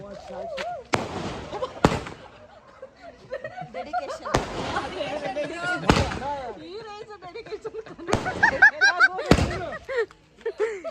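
Firecrackers go off in sharp, scattered bangs, about six bursts at uneven intervals, while people talk and laugh throughout.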